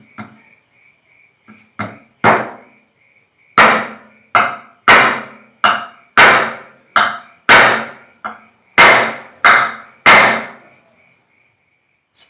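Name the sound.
hammer striking nail into wood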